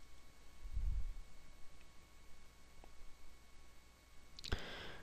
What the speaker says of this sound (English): and click login.